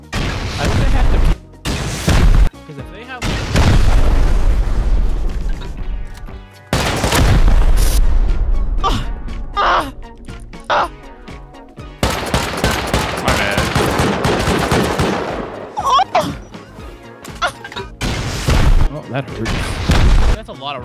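Repeated loud rocket explosions and booms from a Rust game fight, with heavy blasts and gunfire bursts coming in waves across the span, and players talking over them.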